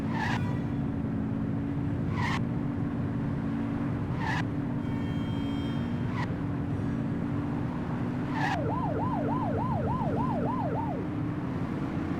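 Police car siren in the video game The Precinct, a rapid wailing sweep that starts near the end, over steady engine and road rumble, with several short sharp skid-like squeals from the car earlier.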